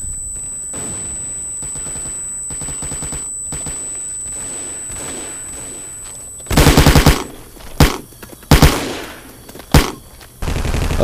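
Gunfire and a grenade blast ring out in the Vietcong: Fist Alpha video game during a VC attack on Nui Pek, with a quieter stretch of battle noise followed by loud, sharp bursts of automatic fire and explosions close by.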